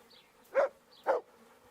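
A dog in Kingdom Come: Deliverance gives two short, mid-loud barks about half a second apart over a faint background hum.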